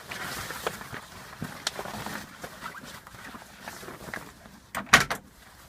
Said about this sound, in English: Open the side door